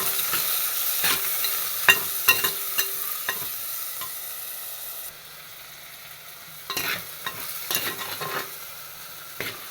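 Onions and three large chopped tomatoes sauté in a pan for a coconut mackerel curry, a close, steady sizzle broken by repeated scraping strokes of a spoon, quieter mid-way before the stirring clatter resumes.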